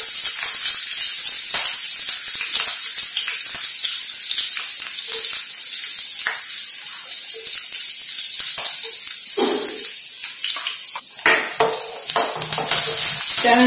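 Green chillies fry in a pan with mustard seeds, giving a steady, close sizzle with intermittent crackles and pops and a few light scraping touches throughout.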